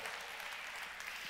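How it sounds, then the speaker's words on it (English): A church congregation applauds during a sermon, a steady, dense wash of many hands clapping at a moderate distance, faint and unbroken, with no speech over it. "Give yourselves a round of applause because tonight you're hearing the word of God."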